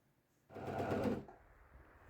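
A sewing machine runs briefly while stitching a T-shirt side seam together with the sleeve, a short, quiet, rapid whirring burst of under a second set against near silence.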